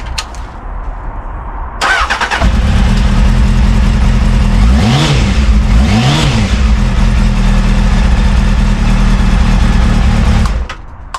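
A Honda Hornet motorcycle with a redone, resealed exhaust starts up loud and close, idles with a steady rumble, then gives two sharp revs before the engine cuts off.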